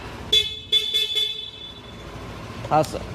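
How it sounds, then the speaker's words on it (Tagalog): A Yamaha Nmax V3 2025 scooter horn beeps four times in quick succession, short and thin-toned, followed by a brief voice nearby. "Busina."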